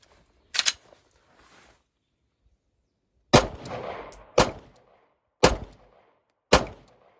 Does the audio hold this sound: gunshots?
yes